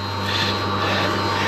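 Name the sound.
water pump running near flooded River Trent dike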